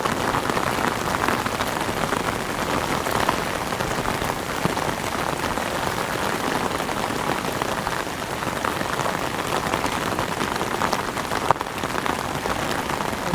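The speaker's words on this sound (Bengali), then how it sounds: "কিভাবে ঠান্ডার বৃষ্টি মারতেছে দেখুন।" Heavy, cold rain pours onto a flooded rooftop during a storm, a dense unbroken roar of drops drumming steadily and loudly throughout.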